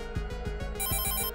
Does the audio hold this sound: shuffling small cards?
no